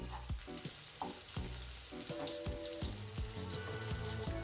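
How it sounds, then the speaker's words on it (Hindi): Potatoes shallow frying in oil on a tava, a steady close sizzle with scattered crackles and pops, plus light clinks of a utensil stirring and turning the pieces. "इन सारे पोटैटोस को हमें फ्राई करना है, मतलब शैलो फ्राई करना है।"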